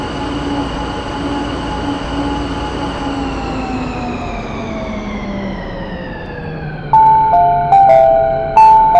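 A London Underground Central Line S Stock train runs with a steady loud rumble and a slowly falling motor whine, then bright electronic chime-like tones sound repeatedly near the end.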